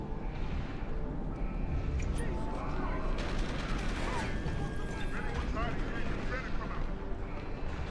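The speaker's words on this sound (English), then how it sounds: "I hear gunshots. I hear a lot of those." Rapid gunfire from the video game Deus Ex: Human Revolution, dense bursts of shots layered over rumbling game noise and clattering effects, with someone talking over it throughout.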